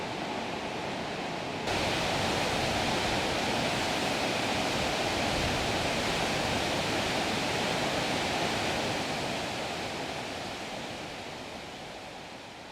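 Waterfalls below a bridge: a loud, steady, broadband roar of rushing water that starts abruptly, holds continuously and eases off slightly toward the end, with no voices.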